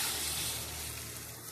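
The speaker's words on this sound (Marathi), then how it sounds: "हे पाणी आपण या रश्श्यात ओतणार" Heated water pouring into a pot of curry made with ground-lentil sandgas, a steady loud rushing splash that fades slightly toward the end.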